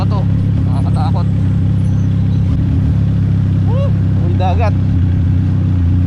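A 675NK adventure motorcycle's engine drones loud and constant while riding a sharp, rocky off-road trail near Lobo, Batangas, with a rider speaking briefly over the continuous engine noise.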